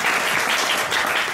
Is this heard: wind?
no